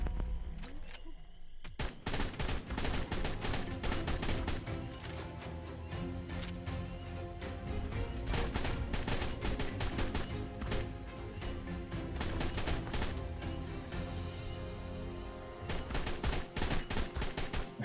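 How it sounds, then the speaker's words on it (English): Rapid automatic gunfire in ARK, aimed at a Brachi, pours out in long dense bursts of close, loud shots with brief pauses between volleys, and no talk over it. "it's a lot harder to aim when you're like shooting a bunch of bullets at the same time"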